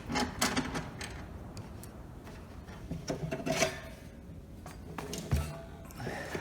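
Someone works the wall mounting bracket off an Aurora Power One solar inverter: close, irregular scraping, rubbing and clattering of metal parts over several seconds, with scattered sharper knocks and no talking.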